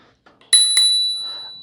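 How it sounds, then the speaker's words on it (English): Integrated bell on a Hiboy KS4 electric scooter rings twice in quick succession, bright and close, with the second strike's tone left to ring out and slowly decay. "It's got one of those integrated bells that I always like."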